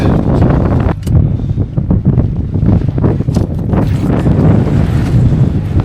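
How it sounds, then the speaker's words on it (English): Strong gusts buffet the microphone beside a big rig truck in a loud, continuous low rumble that surges and eases, with no voices. "Sorry guys, but it is windy."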